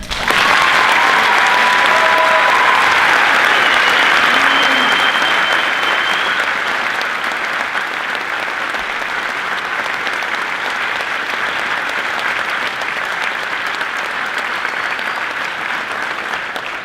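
An audience at a school choir senior awards ceremony applauds for an honoree, dense sustained clapping that fills the hall and stays loud throughout.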